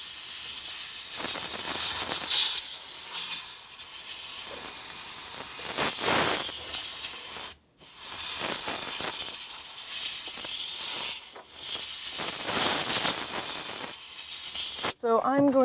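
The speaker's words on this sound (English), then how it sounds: "I'm just going to get my blowgun" A compressed-air blowgun clearing debris around the fuel pump area of a 2003–2007 Honda Accord, long loud hissing blasts in close succession with brief breaks, ending in a short squeak.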